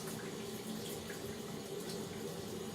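Tap water runs steadily into a sink to rinse a sticky chalk stencil, a continuous close splashing hiss with no pauses and no talk.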